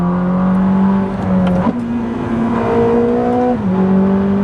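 A Ferrari 849 Testarossa hybrid with 1050 horsepower drives on a wet track, its engine holding a loud, steady drone that rises and dips with small shifts in pace, close from inside the car, with no talk.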